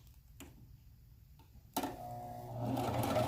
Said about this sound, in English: Lisa, really, we have to watch you sew?